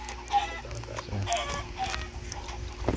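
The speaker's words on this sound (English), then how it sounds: "And it's a lot of chickens." Chickens clucking in the Minecraft video game, several short game-sound clucks scattered over a steady background hum, moderately loud with no talking.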